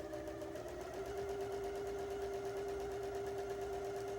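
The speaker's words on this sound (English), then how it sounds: "And then I'm gonna put it back on the sewing machine with my 1/4 inch foot." Sewing machine stitching a quarter-inch seam on quilt fabric with a 1/4 inch foot, a steady, fast mechanical hum and rapid needle rhythm, close but fairly quiet.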